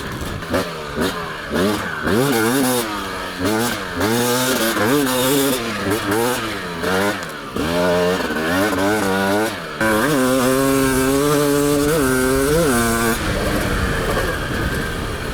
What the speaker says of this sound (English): Okay, going through all the 6 gears. This thing has a nice pull.